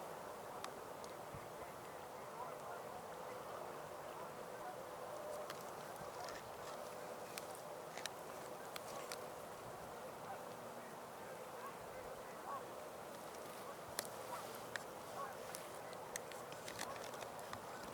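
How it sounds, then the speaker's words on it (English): Ducks at Montezuma National Wildlife Refuge calling faintly from a distance, scattered quacks and honks over a steady outdoor hiss. "we're getting some nice looks at various species of ducks"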